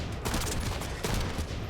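Gunfire from a shooter video game, The First Descendant, a dense continuous burst of shots running through the whole moment with a brief dip near the middle, loud and close, no talking over it.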